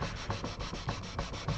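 A sanding block rubs back and forth over the nut of a Takamine guitar in quick, steady strokes, the scratchy scraping close and alone with no talk.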